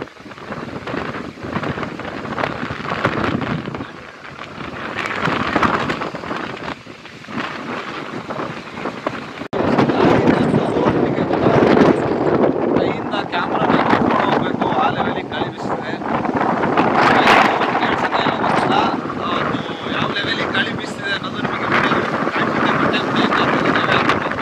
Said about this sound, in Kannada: ನೋಡಿ ಎಷ್ಟು ಗಾಳಿ ಇದೆ ಅಂತ